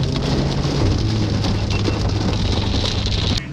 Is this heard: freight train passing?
no